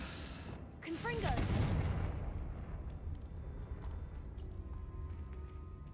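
A Confringo fire spell blasts off in Hogwarts Legacy, a loud burst with a falling whistling streak followed by a booming rumble that fades into a low sustained roar, with some voice underneath.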